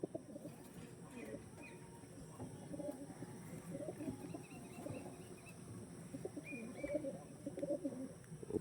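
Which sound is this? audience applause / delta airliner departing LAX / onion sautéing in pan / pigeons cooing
pigeons cooing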